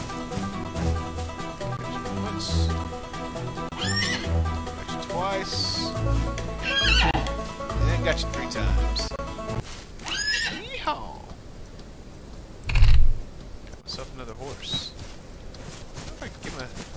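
A horse in the Western game Outlaws of the Old West gives several loud whinnies and neighs over soft clip-clop and game music, with a sharp thud near the end.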